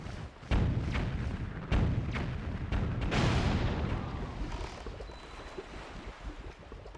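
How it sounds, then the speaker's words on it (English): Cannon fire in The Wind Waker video game, several heavy booming shots in quick succession followed by a longer rumbling blast that slowly fades into a low ocean-like wash. "For example, this cannon."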